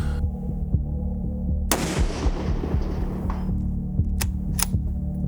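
A precision rifle fires a single loud, sharp shot in a video game, its boom trailing off over a steady low hum, followed by a couple of faint metallic clicks.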